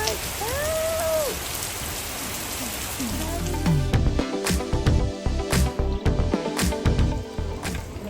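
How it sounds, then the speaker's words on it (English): Heavy rain pours down at a hotel in Ocho Rios, Jamaica, a steady loud wash broken by sharp spattering drops and splashes in the second half; a brief whistling tone sounds near the start. "It's raining like hell."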